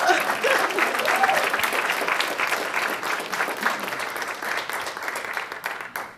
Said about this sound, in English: We give the judge a hand clap